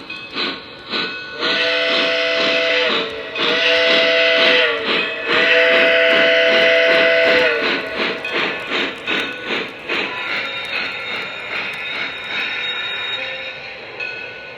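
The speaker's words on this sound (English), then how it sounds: "I've turned the sounds down a little bit on the locomotive so you can hear me speak" A Lionel Legacy Canadian Pacific 10-wheeler model steam locomotive's whistle sounds in long repeated blasts over steady hissing and rhythmic chuffing, then the whistle stops and the engine keeps chugging.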